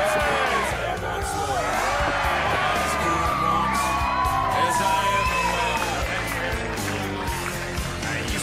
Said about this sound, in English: I reckon we should just give a big round of applause and 3 cheers to Nilma Darnum Footy Club.